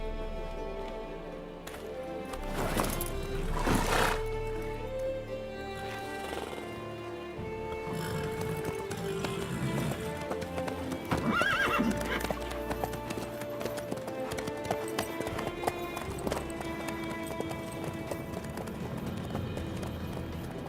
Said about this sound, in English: How's your horse?